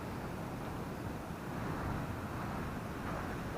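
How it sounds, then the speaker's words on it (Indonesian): Strong surf breaks on the white-sand beach at Ujung Genteng, Sukabumi, as a faint, continuous low roar of rushing water with no voices and no distinct individual crashes. "ombaknya deras banget"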